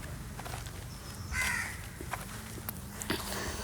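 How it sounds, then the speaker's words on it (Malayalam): Crows caw outdoors around a home garden, a few short calls standing out over a faint background of other birds and soft ambient noise. "രാവിലെയൊക്കെ ആകുമ്പോൾ ഭയങ്കരമായിട്ട് കിളികളുടെ ശബ്ദം കേൾക്കാം."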